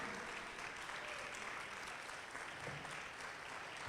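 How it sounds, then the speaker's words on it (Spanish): Church congregation applauding during a Spanish-language sermon, a steady wash of many hands clapping heard at a distance and fairly faint, with no break through the stretch. "Denle un aplauso al Señor"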